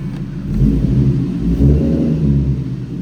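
A modded 2014 Infiniti Q50 3.7 engine revs up and holds with a deep, steady rumble, rising and falling slightly, close by with no talking.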